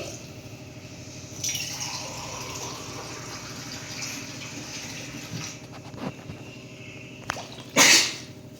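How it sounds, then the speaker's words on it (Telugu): Water is poured in short, uneven bursts, with a soft trickle and gush that ends in a louder splash near the end. "వాటర్ పోసుకోవాలి"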